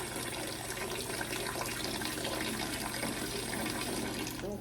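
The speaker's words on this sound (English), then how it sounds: "I'm gonna fill up this with water" Tap water runs steadily into a cooking pot, a quiet, continuous stream of filling with a faint background hum.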